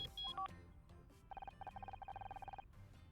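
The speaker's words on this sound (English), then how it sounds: "I think that's my phone." A phone rings in the detective video game Murder By Numbers: a rapid electronic trill of repeated beeps in a quick burst, preceded by a few short tones, fairly faint and without talk.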